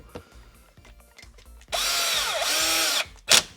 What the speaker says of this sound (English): So go ahead and screw these in right here.